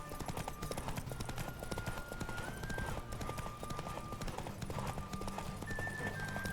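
Rapid galloping horse hooves clatter steadily through a race in The Witcher 3, loud and close with a continuous rumbling rhythm, a sustained musical tone and occasional whinnies layered over the pounding.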